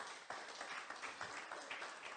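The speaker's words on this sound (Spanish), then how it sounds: "Un aplauso para el Señor." Applause for the Lord at a Spanish-language church Bible study: a steady wash of many hands clapping, with soft rhythmic swells, filling the whole clip with no talk.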